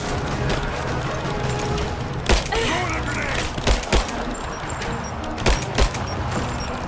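Grenade blasts in Rise of the Tomb Raider combat, several sharp thudding explosions scattered over steady gunfire and game noise, with a person talking over the action.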